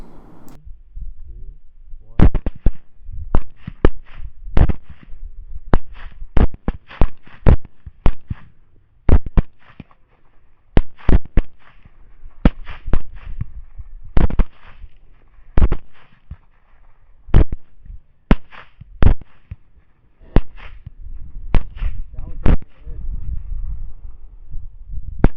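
Rifle shots from an LWRC 6.8 Razorback fired at feral hogs on a Texas cattle ranch ring out as many sharp, loud cracks in irregular bursts, some in quick pairs, with quieter gaps between them.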